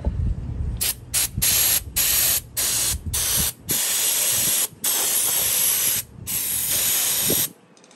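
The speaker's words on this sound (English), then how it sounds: "to clean the switch, I'm going to use CRC" CRC electrical parts cleaner sprays onto the switch of a vintage Disston Model D25 electric drill, loud close hissing bursts of varying length separated by brief gaps.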